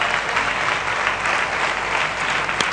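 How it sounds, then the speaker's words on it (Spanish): Loud, dense applause from a congregation at a Spanish-language church service, sustained and even throughout with no talking over it. "Dale un aplauso fuerte al Señor."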